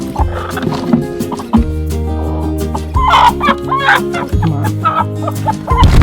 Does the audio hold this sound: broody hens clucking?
yes